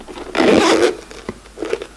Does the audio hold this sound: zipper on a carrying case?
yes